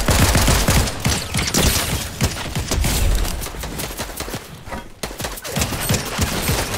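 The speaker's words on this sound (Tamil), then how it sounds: "மேல இருந்து ஒருத்தர் ஸ்னைப்பர் அடிச்சுட்டு இருக்கிறான் பாத்து." Dense, loud bursts of gunfire ring out nonstop in a Fortnite match, sniper shots among rapid cracks and impacts, with a brief lull near the end before the firing resumes.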